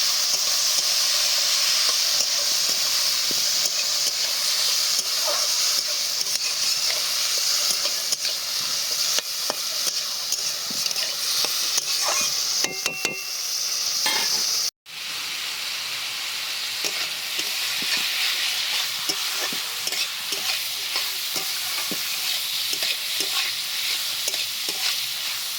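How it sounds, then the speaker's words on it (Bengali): Bottle gourd peel mash with salt frying in a pan, a continuous bright sizzle with occasional stirring scrapes, close and steady, briefly cutting out partway through, with no talking. "এবার খুব ভালো করে সব কিছুকে ভেজে নেব"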